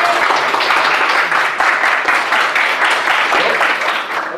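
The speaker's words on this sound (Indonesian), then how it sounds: "tepuk tangan." Classroom applause for a student's perspective drawing in an eighth-grade art lesson, loud dense clapping from many hands sustained throughout and fading slightly at the end.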